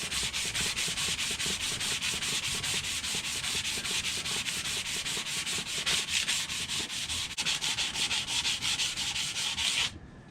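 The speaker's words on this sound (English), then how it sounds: "What's fun with the sandpaper is you can go on both sides, it doesn't matter." Sandpaper rubs steadily back and forth over the carved wood of a horseshoe knife during cleanup and polishing, a close, continuous rasping scrape in quick, even strokes that runs the whole time and stops just before the end.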